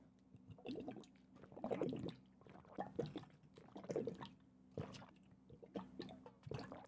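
Someone drinks water, with quiet gulping, swallowing and liquid sloshing in irregular bursts, faint and close with no talking.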